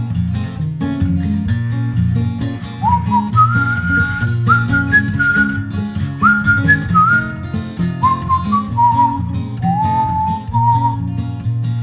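A whistled melody carries a song over a live band, in clear rising and falling phrases that sit above steady low instrumental backing.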